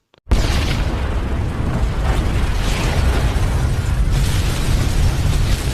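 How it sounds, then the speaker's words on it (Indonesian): A loud, sustained explosive roar of a lab blowing up in a film erupts suddenly from silence and rumbles on without a break, heavy and close. "meledakkan lab tersebut"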